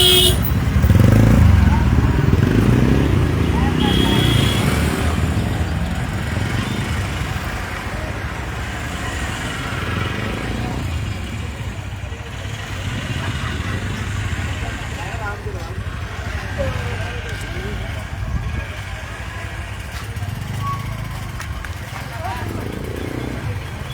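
A motorcycle procession rolls along a road in Matlab, Chandpur, with a steady rumble of many engines and occasional horn toots, while people talk throughout over the traffic noise.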